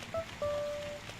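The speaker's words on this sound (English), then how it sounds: "because it's raining" Rain falling in the video game Animal Crossing City Folk makes a steady soft hiss, with a couple of brief chime-like tones ringing over it.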